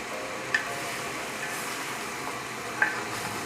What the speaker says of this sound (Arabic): ودلوقتي يا حبايبي هنضيف عصير الطماطم، كوباية من عصير الطماطم